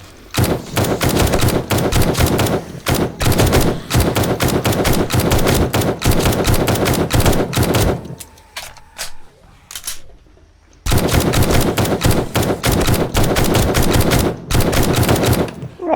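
Rapid bursts of gunfire from the survival video game 7 Days to Die, loud and close, in dense volleys with a short gap midway before the shooting resumes.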